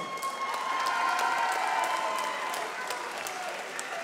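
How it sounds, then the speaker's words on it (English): A crowd at a Phoenix FN28 MMA fight night claps and cheers for both fighters after a rear naked choke finish, a steady wash of applause with scattered sharper claps throughout. "Ladies and gentlemen, round of applause for both fighters"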